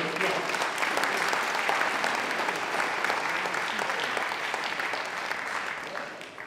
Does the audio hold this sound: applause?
yes